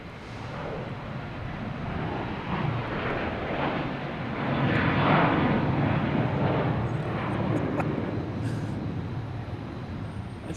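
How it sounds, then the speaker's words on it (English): American Airlines airliner taking off from Boston Logan, a broad steady jet roar that swells toward the middle and holds, heard from a distance with no voices over it. "we have American Airlines taking off"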